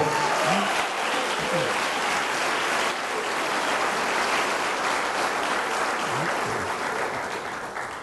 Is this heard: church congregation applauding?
yes